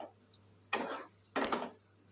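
Potatoes stir-fried with mutton fat and tomato sauce, two scraping, sizzling strokes of a spoon in the pan, each lasting about a third of a second, moderately close against quiet background hum.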